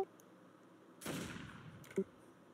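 Gunfire in the Roblox ER:LC roleplay game, a sudden burst of shots with a noisy tail about a second in, followed by a brief sharp crack near the end, at moderate loudness with no talk.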